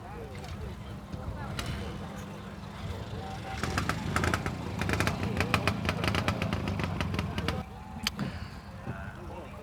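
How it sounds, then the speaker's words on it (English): A small Honda XL 175 motorcycle engine runs steadily at an outdoor old-time vehicle rally, a low chugging idle with brief sharper revs mid-clip, heard fairly close amid background crowd noise. "XL 175, nice little Honda."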